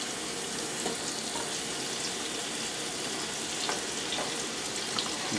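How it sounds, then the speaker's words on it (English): Onion rings sizzle in a hot pan on the stove, a soft, steady crackle and hiss that stays faint and even throughout, with no voices. "separate the rings so they cook and saute evenly"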